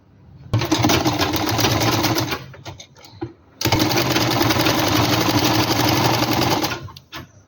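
A sewing machine runs loud and close while stitching a simple suit, two steady whirring runs of about two and three seconds separated by a brief pause with clicks, then it stops.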